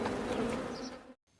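Bees buzz steadily and close at a beekeeping site in a film scene, a dense droning hum that cuts off abruptly near the end.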